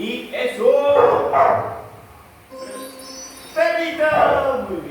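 Barks, yips and whimpers in an animal-sound guessing game, likely made by a human voice imitating a dog, come in two lively bursts separated by a brief lull.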